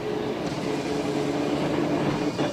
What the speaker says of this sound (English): historic old trams are kept going by keen volunteers and run alongside the Botanical Gardens.